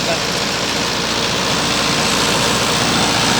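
A Mahindra 585 tractor engine runs loud and close, a steady rumbling drone with no breaks, heard under nearby talk.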